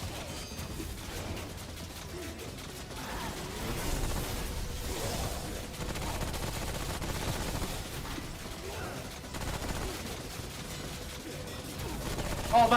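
Automated turrets firing in the video game Remnant: From the Ashes, a fairly quiet, continuous rattle of shots mixed into a busy battle soundscape without speech.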